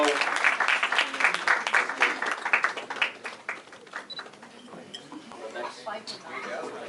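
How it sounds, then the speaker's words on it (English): At a cricket club annual dinner, a crowd breaks into lively applause that gradually fades, with voices and chatter mixed in. "Round of applause, man."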